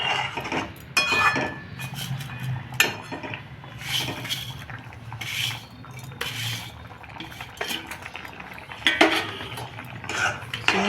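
A spoon stirs boiled carrot, sugar and milk in a pan, giving intermittent scraping and clinking of metal on the pan over a soft bubbling background, no voices.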